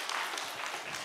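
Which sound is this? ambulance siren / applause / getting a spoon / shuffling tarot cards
applause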